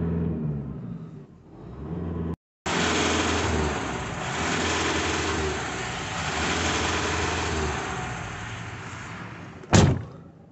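A van engine revving under acceleration during a drive after an intake and EGR cleaning treatment, a steady loud rumble with a brief cut near the start and a sharp burst near the end, with no talking.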